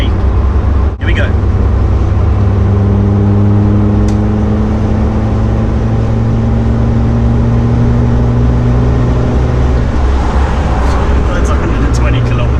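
A Land Rover Td5 Defender with a Stage 2 remap accelerates hard during an overtake, its loud diesel drone rising steadily in pitch from inside the cabin.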